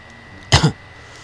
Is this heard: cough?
yes